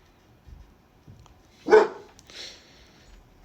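A dog's single sharp bark rings out with a fainter follow-up yelp, set against a quiet background in a Fire Emblem 7 chapter battle scene.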